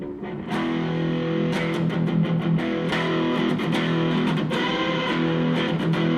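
An electric guitar through an overdrive pedal with thick, overdriven crunch plays a riff of chords and picked notes, loud and continuous.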